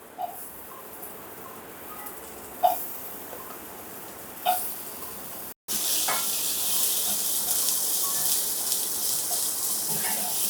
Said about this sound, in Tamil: அப்படியே வெறும் கடாயிலே முள்ளங்கி